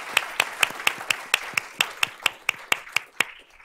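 Hands clap in a steady, evenly spaced rhythm at a school board of trustees meeting, applauding students, a dozen sharp claps in a row before stopping.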